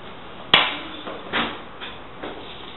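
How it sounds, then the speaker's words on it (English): Hammer handled and set down: one sharp metallic strike followed by a few softer knocks and taps spaced about a second apart, close by with no talking. "This object is a hammer."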